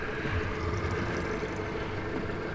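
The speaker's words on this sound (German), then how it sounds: "Der Motor läuft warm." A fishing boat's outboard motor warms up on the water before a catfish outing, a steady, low, even drone running without a break at moderate volume.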